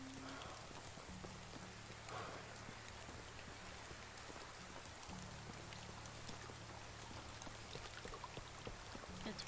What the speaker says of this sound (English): Raining today though.